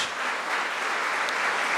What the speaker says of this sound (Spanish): ¿Cuánto le damos un fuerte aplauso?